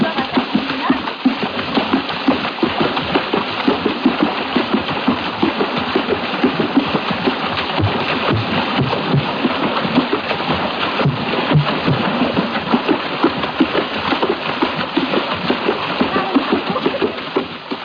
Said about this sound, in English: If some of that sound seemed to resemble splashing water, that's exactly what it was. This was African water music